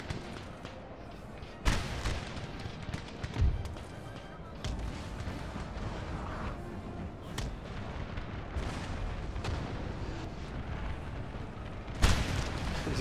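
Cannon fire in the Napoleon Total War video game with Darthmod, during a Russian campaign battle: scattered deep booms and sharp cracks at uneven intervals, some close and loud, others distant, over a constant rumble of battle, with someone talking at times.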